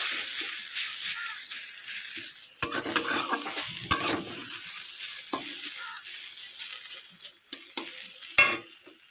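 Potatoes sizzle steadily as they fry in a pan, with a spoon scraping and stirring them in occasional sharp knocks and rattles, heard close up without talking.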